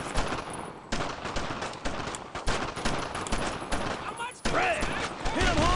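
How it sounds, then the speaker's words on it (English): Gunfire in the World War II shooter Brothers in Arms: Road to Hill 30, with dense rapid bursts of rifle and machine-gun fire close and loud throughout. Shouting voices overlap the shots. "they're shooting at us!"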